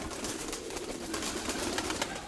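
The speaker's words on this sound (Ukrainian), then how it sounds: "Голубів тут, скільки тут голубів?" Soft pigeon cooing from a large loft of around a thousand pigeons blends into a continuous murmur of many birds, steady and moderately loud, with no voices.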